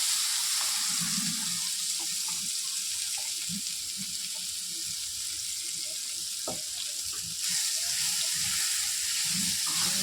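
Chopped raw mango frying in oil with five-spice seeds, a faint steady hiss of sizzling oil with occasional soft stirs and clinks of the spatula.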